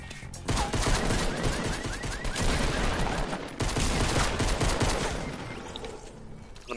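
Dense, continuous gunfire in the video game Fortnite, a loud sustained barrage of overlapping shots with no clear pauses.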